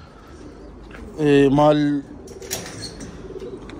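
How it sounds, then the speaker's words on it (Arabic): Pigeons coo in a short low burst with a brief flutter of wings, close by, while someone speaks over and around them. "هاي الطيور شوفوها"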